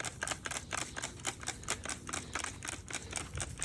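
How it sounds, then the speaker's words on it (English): Rapid, rhythmic hissing spritzes of cleaner from a trigger spray bottle during a car oil change, about eight per second, close and fairly soft. "I'm just going to spray this down liberally"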